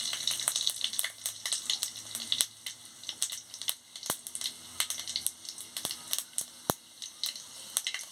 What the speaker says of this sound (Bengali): এবার তেল গরম হয়ে গেছে, আমি পাঁচ ফোড়ন আর শুকনো লঙ্কাটা দিয়ে দিচ্ছি।